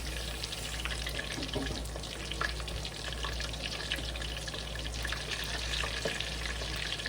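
Eggplant slices fry in a pan of hot oil for eggplant Parmesan, giving a steady, close crackling sizzle with a dense hiss throughout and no voices.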